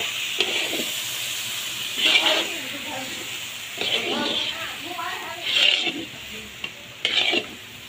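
Tomato paste hits fried masala in a pan at a street fish-curry stall, producing a continuous sizzle broken by several loud scraping bursts from a stirring ladle, with voices faintly in the background.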